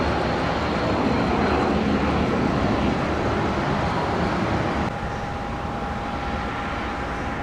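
A steady, loud airplane engine drones throughout with a constant whine, no voices, the tone shifting slightly partway through.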